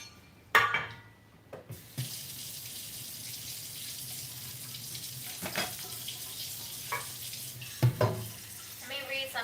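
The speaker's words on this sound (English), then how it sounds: "First, I will boil some water for tea." A kitchen tap runs water into a kettle for tea, with a steady rushing flow broken by clanks and handling knocks at close range.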